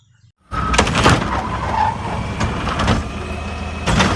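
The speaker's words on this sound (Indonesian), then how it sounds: "ini truk pengangkut sampah." Toy garbage truck sound effect with a loud, close vehicle rumble and sharp skid-like bursts, starting abruptly and playing alone without talk.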